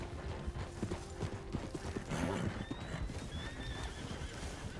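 A horse in Red Dead Redemption 2 clip-clops and lets out a whinny, hoofbeats and the neigh sounding close over game ambience.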